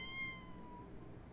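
A cat in the Sims 4 video game gives a single short, faint meow at the start over a low background hum, with no voices.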